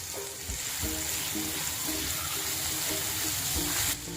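A paste of garlic, ginger and a hot green chili fries in oil for a capsicum curry, giving a steady close hiss with a low tonal hum underneath. The hiss swells briefly near the end, and no one speaks.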